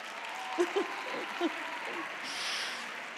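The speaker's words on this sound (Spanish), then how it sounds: "Eso se merece un aplauso solo por coordinar." Crowd applause for the 231-member Bóveda troupe at a carnival troupe presentation in Errenteria, a steady, fairly quiet wash of clapping with a few brief vocal shouts rising above it.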